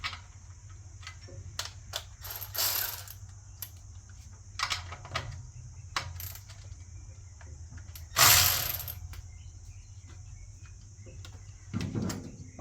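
A ratchet and socket clicks on an engine in short, scattered bursts against a steady background hum, with a few louder mechanical rattles and clunks in between and no talking.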